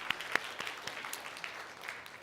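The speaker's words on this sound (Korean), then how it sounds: "박수 한번 치겠습니다." Quiet, scattered clapping from a church congregation during a Sunday worship service, faint and somewhat distant, with a few sharper individual claps standing out.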